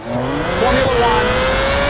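A Formula One race car drives through a water pothole, its high engine note rising and sweeping loudly past at close range with a brief splash-like burst.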